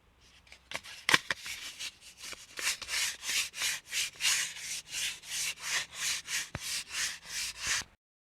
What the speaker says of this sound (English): the first action for the steering wheel restoration is sanding it down with provided sandpaper